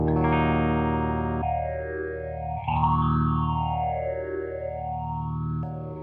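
Boss phaser pedal with its resonance knob engaged on electric guitar, a sustained distorted chord sweeping slowly up and down in a deep whooshing arc, loud and continuous with a fresh pick attack partway through.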